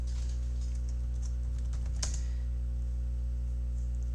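Rapid clicking keystrokes on a computer keyboard, a close, light patter of taps in short bursts over a steady low electrical hum.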